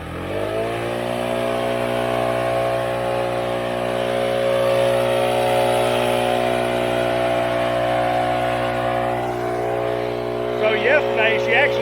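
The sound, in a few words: Stihl BR800CE backpack blower running at full power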